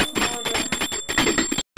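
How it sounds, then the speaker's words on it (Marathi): Steady, rapid clanging of a hand bell during a Ganesh aarti at a home Ganpati festival in Konkan, loud and close with a bright ringing tone, stopping abruptly just before the end. "घंटा वाजून"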